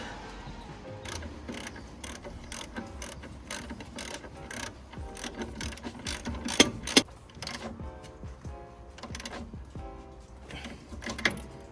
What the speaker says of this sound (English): Just tighten up that castle nut.